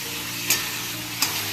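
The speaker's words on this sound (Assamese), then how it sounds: "লেচেৰা ভাজি চহাই দিছোঁ" Potato and vegetable fry sizzles in a pan while a spatula stirs it, with a continuous close crackling hiss broken by three sharp scraping strokes against the pan.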